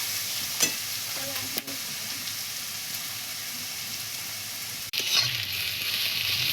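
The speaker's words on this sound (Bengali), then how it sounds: "বল পেঁয়াজটা এখন ভাজা হোক ভালো করে" Onions fry in a pan over a wood fire with a constant hiss, broken by a few sharp scrapes and clatters as they are stirred; one louder knock comes near the end, and no one speaks.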